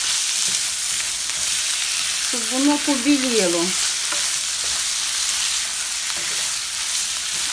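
Chicken breast and onion sizzle steadily in a pan, lightly frying, a continuous hissing crackle throughout, with a person speaking briefly partway through.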